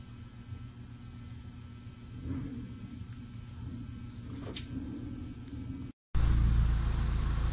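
A Mitsubishi Lancer's engine idles during a test after an RPM gauge repair: a steady, close low rumble that cuts out briefly, then returns louder and fuller.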